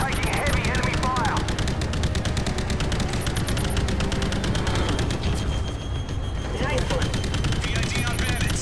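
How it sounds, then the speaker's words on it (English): Dense, continuous gunfire and bursts of automatic weapons in Call of Duty: Infinite Warfare, played in VR, loud and constant throughout with game radio voices and a player talking over it. "Atlantic taking heavy enemy fire."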